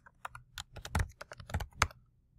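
Typing on a computer keyboard, a quick irregular run of crisp key clicks, close and alone with no talking.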